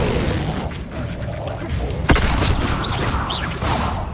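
Levioso spell cast in Hogwarts Legacy gameplay: a loud, dense burst of magical whooshing and booming impacts with sharp crackling transients, layered over continuous in-game effects and background sound.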